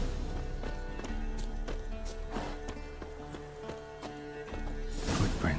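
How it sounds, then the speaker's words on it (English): Horse hooves clip-clopping in The Witcher 3 video game, a steady walking rhythm of repeated hoof strikes close by over continuous game music and ambience, with a short burst of louder noise near the end. "That's his horse."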